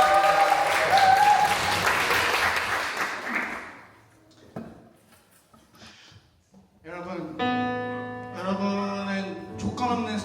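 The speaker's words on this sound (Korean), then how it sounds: "우리 떨리지만 그래도 잘 쳐준 승주에게 박수 한번 쳐주시면 감사하겠습니다." A church congregation applauding a young drummer after his debut, a burst of dense clapping that fades out within a few seconds, followed by quiet and then sustained musical tones.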